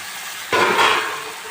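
Dried small fish dropped into hot tempering oil in a curry pan, setting off a sudden loud, broad sizzle that swells and then holds steady for about a second.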